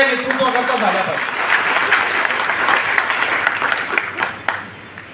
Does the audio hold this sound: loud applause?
yes